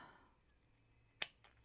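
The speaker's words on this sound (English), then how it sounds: "Scissors." Two short, crisp snips of scissors cutting craft foam, the first sharper and louder, the second fainter, over a quiet room with a faint hiss.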